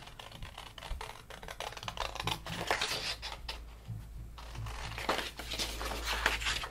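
Close, continuous crunching snips of sharp scissors cutting card along lines for papercraft, a rapid busy rhythm with no talking.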